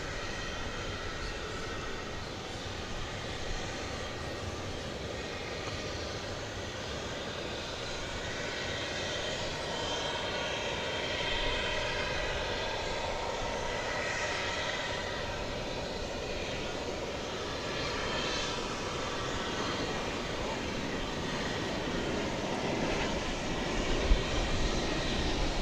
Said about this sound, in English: So here comes the flight from Grand Junction